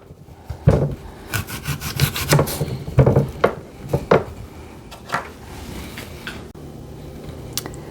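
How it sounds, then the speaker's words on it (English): A knife scrapes and saws the skin off Pink Lady apples in close, uneven strokes with brief pauses, growing sparser and softer toward the end. "we're going to need to cut the skin off of the apples"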